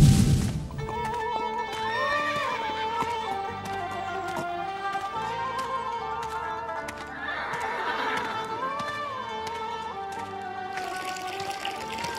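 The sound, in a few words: horses neighing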